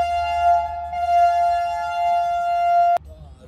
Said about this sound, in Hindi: और चाय पीने के बाद हमारी जो ट्रेन है उसने बजा दिया है सायरन कि भाई अब हम निकलने लगे हैं